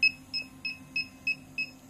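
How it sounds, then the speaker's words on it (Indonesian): Electronic buzzer on a distance-sensor motor project, running at medium speed with the object between 5 and 30 cm away, giving six short evenly spaced beeps of about a third of a second each over a low motor hum. "Motor akan bergerak dengan kecepatan sedang dan buzzer akan berbunyi."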